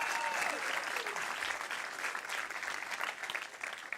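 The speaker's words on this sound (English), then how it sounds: "You guys like to clap, don't you?" An audience claps at a campus graduation ceremony, producing a steady wash of many hands that stays moderately loud across the whole stretch and eases slightly toward the end; a faint voice may sit briefly under it.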